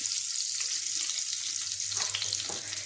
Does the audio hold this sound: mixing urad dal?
yes